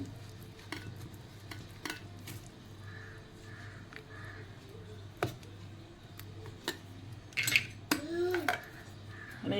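Appe batter of mixed lentils and rice is mixed in a bowl. Soft scraping, stirring and occasional clinks of the spoon against the bowl sound faint and close, with brief bits of a voice near the end.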